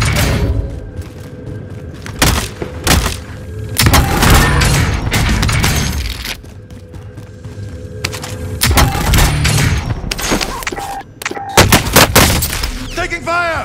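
Call of Duty Warzone Resurgence Quads firefight, with repeated bursts of gunfire and thudding shots cracking loudly through the clip, some clustered in rapid volleys, others spaced, over a dense battle din.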